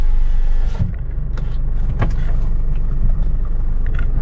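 A used one-owner Ford pickup truck on a test drive, its engine humming in a low steady rumble close by, with a few light clicks and rattles from the cab.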